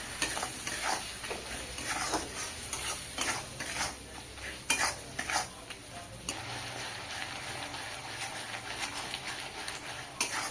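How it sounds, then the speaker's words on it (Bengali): Turmeric, chili and roasted cumin powders sauté in a hot pan for a Bengali lentil-fritter curry, giving a steady close sizzle with repeated scraping and stirring clinks of a spoon against the pan throughout. "হলুদ গুঁড়ো দিয়ে দেবো, লঙ্কার গুঁড়ো, ভাজা জিরে গুঁড়ো দিয়ে ভালোভাবে কষিয়ে নেব।"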